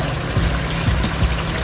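Water trickles and splashes softly as it is poured into a pot of ketupat rendang, a short continuous pour heard up close with a few dull knocks underneath.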